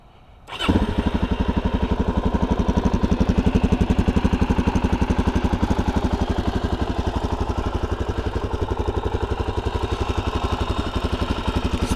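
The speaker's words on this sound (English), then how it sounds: "I'm going to give you guys a little bit of a startup sound." A stock-exhaust 2019 Suzuki DRZ400SM motorcycle fires up after a quiet moment and settles into a loud, rapid, even single-cylinder idle thump that runs steadily to the end.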